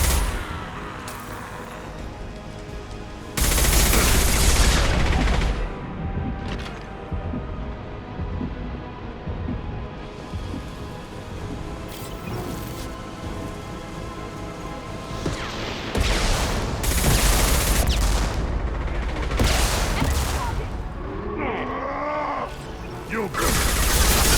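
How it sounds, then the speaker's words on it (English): Heavy gunfire in a Mass Effect Legendary Edition battle, dense sustained bursts and booming impacts that swell loudly around the fourth second and again near the end, with combat voices mixed in. "Taking heavy fire!"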